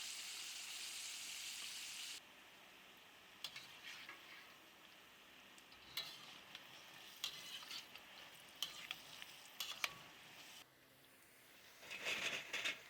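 Fish frying in a pan gives a continuous bright sizzle, loud at first then softer, broken by scattered sharp pops and crackles of spitting oil.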